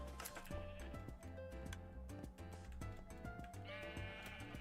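Sheep bleat in the video game Minecraft, sitting inside a dense, continuous mix of game music and other in-game sounds.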